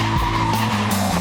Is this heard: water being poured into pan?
no